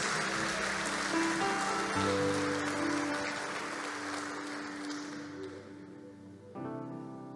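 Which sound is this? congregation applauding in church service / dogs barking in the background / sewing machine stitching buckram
congregation applauding in church service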